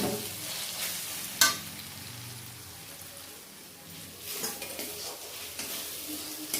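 Chicken curry sizzling and frying in a pan, with a spoon stirring and scraping through it in uneven bursts, and one sharp clatter early on; close and steady, with no talking.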